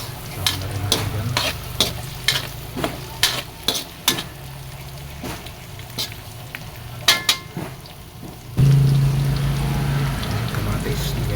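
Ginger and onion sautéing in a pan for a creamy mung bean dish, a steady frying sizzle broken by repeated sharp scraping and stirring clacks, then louder, heavier sizzling near the end.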